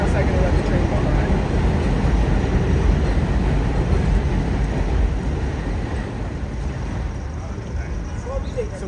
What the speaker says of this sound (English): Pause for a second to let the train go by.